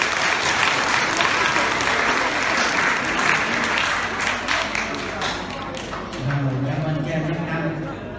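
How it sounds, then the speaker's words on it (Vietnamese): Audience at a Vietnamese-language school's year-end awards ceremony claps for the students, a thick, continuous round of applause that thins toward the end as a voice begins speaking over it. "xin mời chúng ta cho các em một tràng pháo tay"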